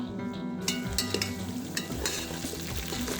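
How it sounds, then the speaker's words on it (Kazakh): Meat and onions fry in a hot kazan-style pot at the start of a fried vermicelli dish, a steady, close sizzle broken by several sharp clatters of stirring. "Қазанымыз қызып, етіміз бен пиязымыз қуырылып тұр."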